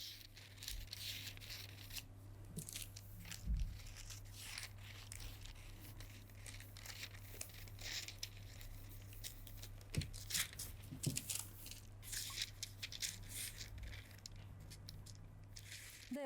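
Scissors cut through a paper sewing pattern for a light coat, giving repeated crisp snips and paper crinkling over a steady low hum, close and fairly quiet, with no talk.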